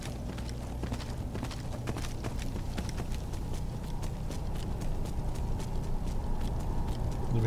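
Horse hooves in Skyrim clatter up a stone staircase in quick, irregular clip-clop strikes over a steady game ambience, close and continuous throughout.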